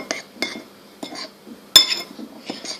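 Spoon stirring cocoa cake batter in a glass cup, making about six distinct clinks of metal on glass at an uneven pace, the fourth one sharpest, close and alone with no talk.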